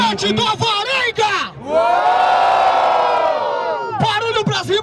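A crowd at a Brazilian freestyle rap battle semifinal erupts in loud sustained cheering and shouting, bursting up after a host's voice and holding for a couple of seconds before his talk resumes.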